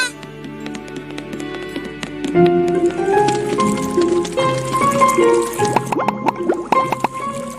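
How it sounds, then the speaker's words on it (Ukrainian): Cartoon water from a stream gurgles and drips as it is drunk, a run of close, bright plops and trickling notes that grow busier partway through. "Поп'ємо водички зі струмка."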